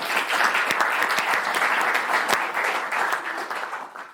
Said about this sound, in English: So applause to you again.